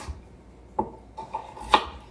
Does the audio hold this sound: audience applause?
no